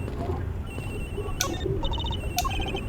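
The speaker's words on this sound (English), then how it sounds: "Agent Hicks' phone, it's ringing from somewhere, sir." A cell phone rings in the Ace Attorney Investigations video game, a short electronic ringtone of repeated bright tones sounding twice over steady game background music.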